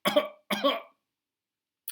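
A storyteller imitates coughing: two short, harsh coughs in quick succession, close and fairly quiet, followed by silence.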